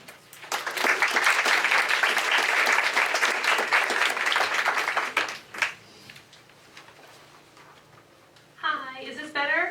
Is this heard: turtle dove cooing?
no